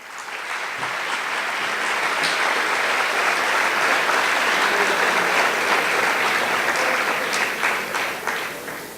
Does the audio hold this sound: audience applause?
yes